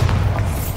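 A Bombarda blasting spell goes off in the Hogwarts Legacy video game: one loud, close, deep boom that fills the whole short moment with heavy low rumble and no talking.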